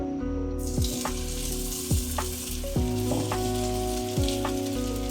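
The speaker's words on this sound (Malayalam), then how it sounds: "നമുക്കൊന്ന് ജസ്റ്റ് വറുത്തെടുക്കാം, അപ്പോൾ ശരിയാവും." Frozen food frying in oil in a pan gives a loud, steady sizzle close by, broken by several short clinks and scrapes of a utensil, with no voices.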